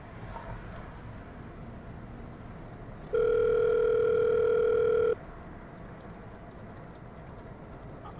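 A telephone dial tone sounds as a steady, loud, unbroken tone for about two seconds in the middle, with quiet room noise before and after it and no dialing clicks.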